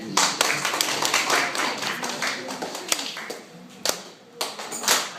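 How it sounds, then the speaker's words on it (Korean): An audience at an outdoor sit-in by a police station in Gangjeong claps along in a steady beat to a sung folk song, the claps close and continuous under the singing voice. "박수로 같이"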